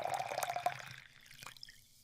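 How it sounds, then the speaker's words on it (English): Water is poured in a thin stream for under a second, followed by a few faint drips and near silence. "I am pouring water."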